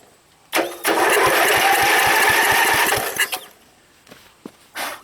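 An old small engine cranks on a battery jumper, spinning with a rapid, loud rhythmic chugging for a few seconds, then cuts out, followed by a few short bursts.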